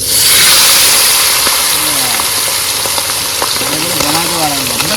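Whole garam masala hits hot oil in a pan and sizzles steadily, close and fairly loud, while a person talks over it.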